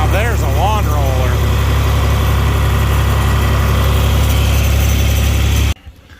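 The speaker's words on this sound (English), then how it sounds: "Now there's a lawn roller." Lawn roller engine running steadily at a dirt-scraping driveway job site, a loud constant low drone with brief whining tones early on, cutting off abruptly near the end.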